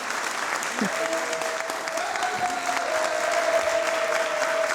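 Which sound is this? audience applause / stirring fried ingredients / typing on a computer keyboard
audience applause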